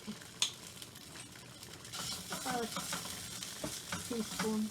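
Grated ginger, about a tablespoon, stirred around a pan, giving soft scraping and a light sizzle with occasional utensil clinks, building slightly louder midway through and continuing steadily alone.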